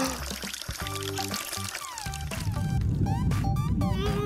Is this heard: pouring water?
yes